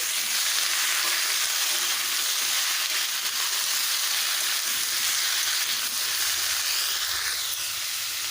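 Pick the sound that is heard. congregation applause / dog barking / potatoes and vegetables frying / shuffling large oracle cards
potatoes and vegetables frying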